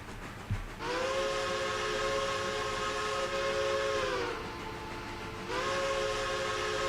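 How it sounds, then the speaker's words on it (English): A steam locomotive whistle sounds in a railroad simulation game, two long sustained blasts with a brief pause between them, loud and close over low ambient noise. "Gotta do my whistle signals this time"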